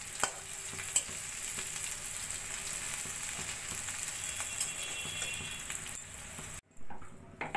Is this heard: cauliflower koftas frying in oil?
yes